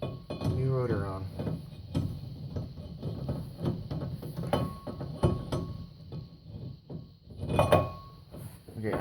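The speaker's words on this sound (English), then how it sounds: "now, we'll go ahead and put a new rotor on" New brake rotor going onto a Lincoln Continental front hub: metallic clinks, clanks and knocks of the disc being handled and seated, under a voice in a garage.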